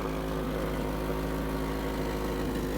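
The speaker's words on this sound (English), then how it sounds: "So I've got a bit of an exhaust leak that I need to fix." A car engine idles steadily with a low, even rumble and a faint ticking puff from the exhaust, close by with no voices.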